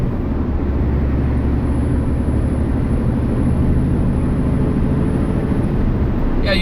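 R450 truck being powered up, giving a loud, steady, close engine rumble that holds throughout, with a faint high whine and a brief hiss near the end.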